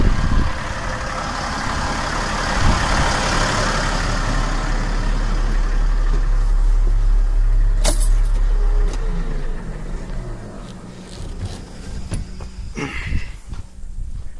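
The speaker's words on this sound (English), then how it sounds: "shut my loader off too, save some fuel." A loader's diesel engine drones steadily at close range, then is shut off, its rumble fading out and leaving rattles and light mechanical clinks in the quieter air.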